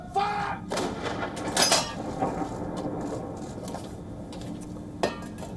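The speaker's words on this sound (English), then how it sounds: "a 41-gun salute is being held in memory and in honor of Prince Philip, the Duke of Edinburgh" A 41-gun artillery salute for Prince Philip, Duke of Edinburgh, carries across Britain as a few sharp, distant booms under faint voices and outdoor background noise.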